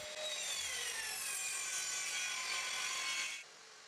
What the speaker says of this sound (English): I cannot clamp the board in the other side of the circular saw guide